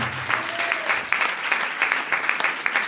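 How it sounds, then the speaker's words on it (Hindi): A church congregation at a Sunday service claps loudly and steadily, a dense wash of applause with a few brief sustained tones and faint voices beneath. "जोरदार ताली देकर समझ आएगी"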